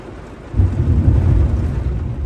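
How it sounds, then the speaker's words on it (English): A severe thunderstorm in Houston, Texas rolls in with a deep, loud rumble of thunder about half a second in. A dense, steady wash of heavy rain continues beneath it to the end. "Sometimes you can tell when it's going to rain really hard."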